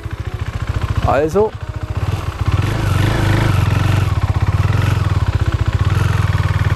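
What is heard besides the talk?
KTM Duke 390 motorcycle engine while turning at low speed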